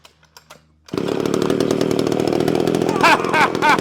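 A Homelite XL chainsaw's two-stroke engine catches and roars to life after a few faint clicks and taps, then keeps running at a loud, steady, buzzing idle up close, with brief revving near the end.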